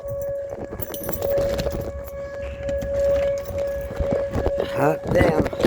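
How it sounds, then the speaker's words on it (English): A tornado siren wails outdoors as a steady sustained tone running through the whole stretch, moderately distant, while a person talks nearby and rustling and footsteps sound close by. "That's the tornado siren,"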